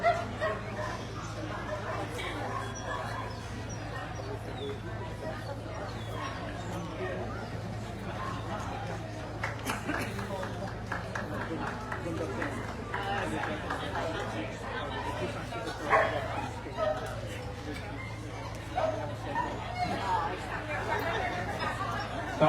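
At an indoor gundog group dog show, several dogs, Irish red and white setters among them, bark, yip and whimper now and then. The dogs are scattered and fairly distant against a steady hall hum and the chatter of a crowd.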